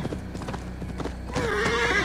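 Hoofbeats of a horse in Assassin's Creed Valhalla clop steadily at a trot, then a loud, drawn-out whinny rises over the continuing hooves near the end.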